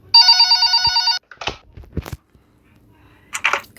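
Telephone ringing in a nurse horror video game, a loud electronic bell trilling steadily for about a second, followed by scattered clicks and thumps with brief faint voice sounds.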